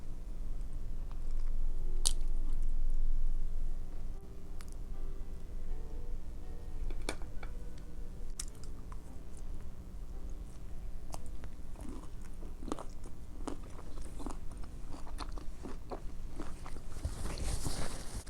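Someone chews dark chocolate-covered cherries up close, with soft repeated bites, wet squishing and small crunches spread over a quiet background.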